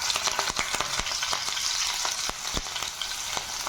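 Chopped ginger and green chilli fry in ghee with a bright, continuous sizzle, close up, broken by sharp clicks and scrapes of stirring.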